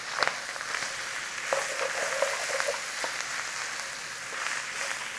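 Beef and garlic frying in a pan while being stirred, a steady bright sizzle with scattered scraping and clicking from the stirring, moderately quiet and without talk.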